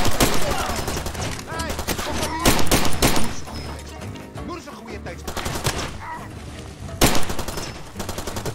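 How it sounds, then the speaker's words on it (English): Gunfire from the Far Cry 2 video game: dense, loud bursts of automatic weapon fire and single shots in rapid clusters, with brief lulls, under occasional speech. "You're even shooting at me, how can you hit me?"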